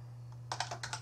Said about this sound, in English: I'll just type in my app.